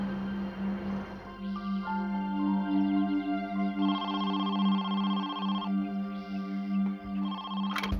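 A telephone rings with an electronic melodic ringtone, its bright repeating note pattern cycling for several seconds, loud and close with nothing else over it.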